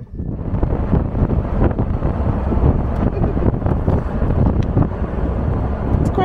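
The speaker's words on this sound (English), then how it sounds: "It's windy." Strong wind buffets the microphone in a constant roaring rush, loud and close with no letup.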